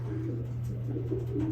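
Pigeons cooing softly at a loft where the birds fly out and return, including a blue bar splash, with a low steady murmur of coos over constant background hum.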